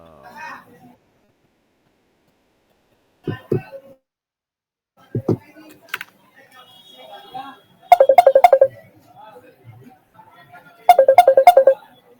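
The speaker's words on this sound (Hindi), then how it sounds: "फ़ोन बज रहा था मेरा" A mobile phone ringtone plays in two loud bursts of rapid repeated tones, each lasting under a second, with scattered soft speech and quiet room sounds around them.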